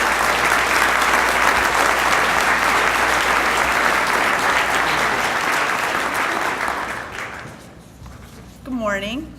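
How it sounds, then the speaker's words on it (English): Loud, dense applause from the audience at a State of the City event fills most of the span, then fades out, followed by a brief voice near the end. "Would you give them a nice round of applause"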